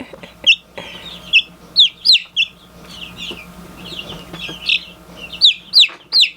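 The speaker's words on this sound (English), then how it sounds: "these bantam chicks are older than these standard buff Orpington chicks" Young bantam and standard buff Orpington chicks chirp and peep in a series of high, sharp calls clustered in quick bursts, close and fairly loud over a quiet background.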